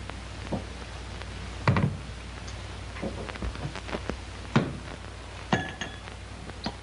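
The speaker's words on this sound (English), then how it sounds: "you take a glass up like this and you start pouring the whiskey" Glass, ice and a whiskey bottle clink as a drink is poured into a tall glass, with a few sharp separate chinks and light ticks spaced out over a quiet background.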